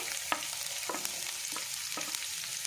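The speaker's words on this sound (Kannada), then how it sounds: "ನೀರುಳ್ಳಿ ಸಣ್ಣ ಕಟ್ ಮಲ್ದಿನ ಪಾಡ್ದು ಫ್ರೈ ಮಲ್ತಿದೆ ತೊನ್ವೆ" Chopped onion fries in hot coconut oil with cinnamon and bay leaf, a steady sizzle broken by four or five rhythmic spoon scrapes against the pan.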